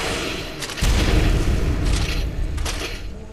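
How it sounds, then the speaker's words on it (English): A shotgun blast destroys a stone in a video game, giving a deep, loud boom with a rumbling tail and some scattered crackling debris, with no speech. "We're gonna destroy this stone."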